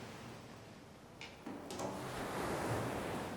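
Sea surf washing onto an empty beach, a broad steady wash of noise that swells gradually and grows louder toward the end, with a couple of faint clicks early on.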